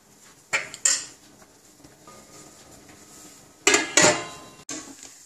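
A metal lid clanks onto a pot of mango and drumstick sambar in a home kitchen, two sharp metallic knocks early, then a quieter stretch and a louder double clatter as it settles.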